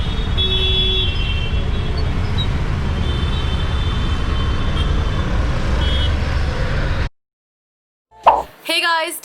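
Dense road traffic in Borivali, heard from a rickshaw: a steady roar of engines and car noise for several seconds, then a sudden cutoff to silence followed by a brief voice.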